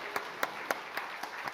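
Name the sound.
church congregation applauding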